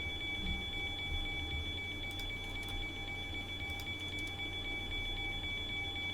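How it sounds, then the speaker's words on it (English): Cockpit alarm in a Zibo Boeing 737 flight simulator in X-Plane 11, a steady, faint electronic tone sounding continuously with a few soft clicks over a low background hum, no talking. "We've got an alarm for something, I'm not quite sure what it is."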